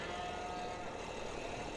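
Sheep bleat in a Farming Simulator 17 winter farm scene, a steady, fairly quiet flock sound with one drawn-out tonal call early on, set against continuous game ambience.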